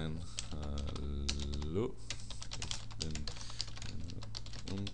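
Rapid clicking on a computer keyboard in quick irregular bursts, with someone talking over it at times.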